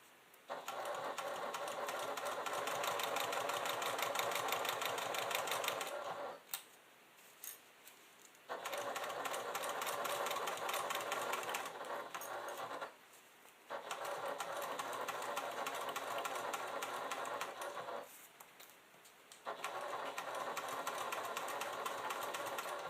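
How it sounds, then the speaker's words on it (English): A sewing machine stitches a quilted leather clutch over foam with a quarter-inch seam. It runs in steady, close, continuous bursts, four long runs broken by short pauses. "And I am stitching this using a 1/4 inch seam allowance."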